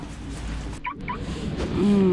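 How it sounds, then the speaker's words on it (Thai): A large goose gives two short honks, then a longer, louder honk at the end, close by with no talking. "ห่านตัวใหญ่มากเลย"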